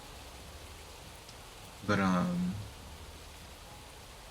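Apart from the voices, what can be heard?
rain falling outside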